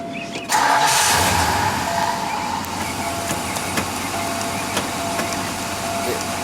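A 1980 Ford Thunderbird Town Landau coupe with a 5.0 V8 cranks briefly and fires at once, then settles into a steady, loud idle close by, with faint knocks and clicks over the running engine.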